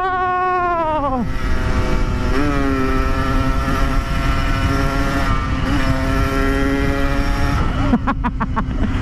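Suzuki Satria FU motorcycle racing along a road, its engine revving in rising and falling whines with gear shifts, loud and close, then a sharper burst of revs near the end.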